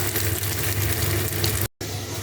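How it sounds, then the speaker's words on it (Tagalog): Sausage frying in a pan while making Southern fried cabbage, a steady hiss and sizzle that runs close and even, broken by one brief dropout near the end. "Yan, prito lang natin siya."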